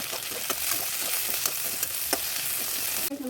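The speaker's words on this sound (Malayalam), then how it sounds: "നമുക്കൊന്ന് ഇളക്കിയെടുക്കാതെ." Tomatoes with green chilli and garlic are stirred while frying in a pan, producing a loud, continuous close-up sizzle with repeated light scraping ticks from the spoon, and nobody speaking.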